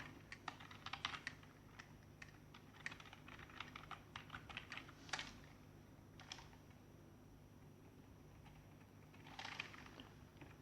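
Typing on a computer keyboard, with quick, faint, close key clicks in irregular bursts and a few louder taps over a quiet room hum.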